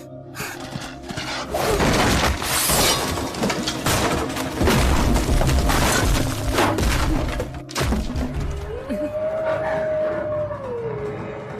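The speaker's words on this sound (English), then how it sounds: "They're breaking through the back wall!" Anime-style effect of a wall being smashed through, a loud sustained crashing rumble with thuds and shattering debris that cuts off sharply before a rising and falling whine, with no talking.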